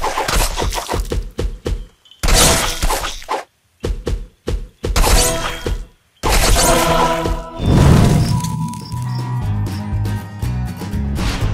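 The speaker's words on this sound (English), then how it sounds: "In this arcade, you need to cut flying fruits by moving your finger on the screen." Fruit slicing, smashing and thumping in the mobile arcade game Fruit Ninja, with bursts of sharp splats and thuds separated by brief silences, then a denser stretch of game effects and music.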